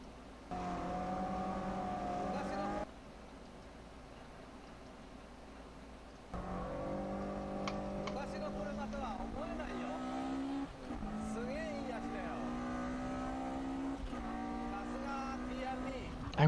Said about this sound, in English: I wish I could have that engine sound for the actual game sound.